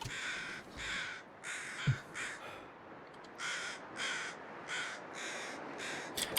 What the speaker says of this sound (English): That sounded like seagulls.